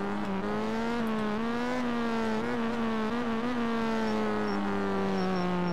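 A Honda CB1000R motorcycle engine in the MX Bikes video game holds a steady, buzzing drone that rises and dips slightly in pitch as the throttle shifts, loud and continuous throughout.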